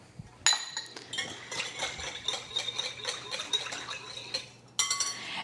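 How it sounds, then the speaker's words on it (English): A whisk clinks rapidly against a bowl while pickle juice dressing is beaten, a brisk metallic rattle running continuously for several seconds, close and fairly quiet. "And then you're gonna whisk that all up."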